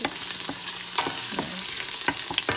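Garlic dropped into hot oil fries with a dense, crackling sizzle, sharp pops scattered through a steady hiss, close and alone without speech.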